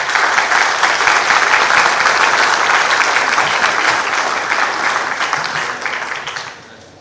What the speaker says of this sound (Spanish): a quien también pedimos fuertes aplausos